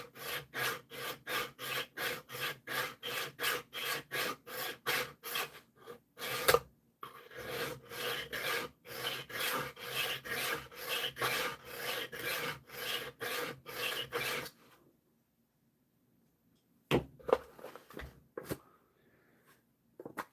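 A knife blade is stroked rapidly across a sharpening stone in steady, even rasping passes, close and clear, pausing briefly midway, then falling quiet before a few last scrapes.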